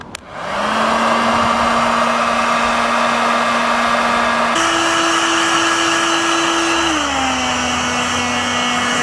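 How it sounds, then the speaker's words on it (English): A heat gun on its low setting, used to melt down a board rail, blows a loud, steady motorized whir with a constant tonal hum that steps up in pitch partway through and then drops back. "just grab your heat gun. It's got 2 settings."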